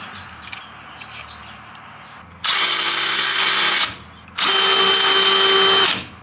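A power drill fitted with a 3/16 bit cuts through a car hood, heard in two long, steady, loud whirring runs separated by a short pause, after a quiet stretch.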